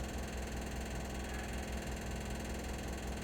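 A tractor pushes a forklift carrying a plasma cutting table, its engine giving a steady, low, even drone with faint vibration, moderately distant and without talk.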